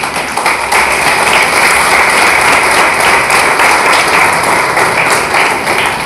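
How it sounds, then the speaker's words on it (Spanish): A church congregation applauds loudly at a service, a thick, close, sustained roar of clapping with some tapping and thudding mixed in, lasting six seconds with no speech. "Dele fuerte el aplauso al Señor."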